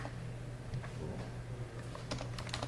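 Someone types on a computer keyboard into Notepad, a quiet steady patter of keystrokes with a busier burst of clicks near the end, over a low background hum.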